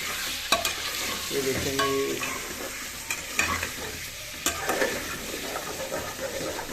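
Chicken with ginger fries in a pan for chicken palak gosht, giving a steady loud sizzle broken by scraping stirs and clacks, while someone says a few words over it.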